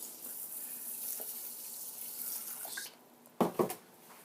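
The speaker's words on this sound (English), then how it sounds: "Next, add some water." Water pours from a tap into a pan of brown rice, a steady hiss with a rushing stream. It breaks off abruptly and a few sharp splashes and clatters follow.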